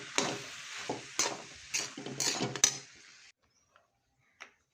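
Leftover rice and pre-fried eggs stirred in a pan, several distinct scraping strokes with a faint sizzle, close and loud, then a near-silent pause with one last small clink.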